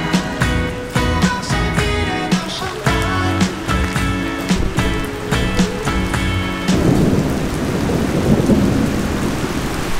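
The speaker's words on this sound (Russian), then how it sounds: "Сегодня уже второй раз за день идет дождь, причем не дождь, а прям ливень" Heavy rain pouring down in Lucerne, Switzerland, a loud steady roar of water over a dense, sustained musical background that fades toward the end.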